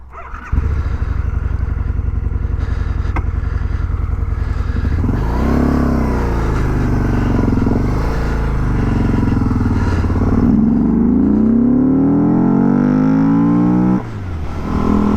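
A 2003 anniversary edition Harley-Davidson V-Rod motorcycle rides off, its engine droning steadily, then revving and rising in pitch through the gears with a brief dip near the end.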